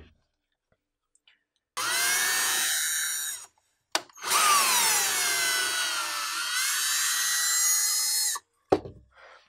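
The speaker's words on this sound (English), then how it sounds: "So I'll drill the short side first" A power drill whirs in two sustained bursts while boring into an eyeglasses frame, the first about two seconds long and the second longer with shifting pitch, close and loud, with no talking.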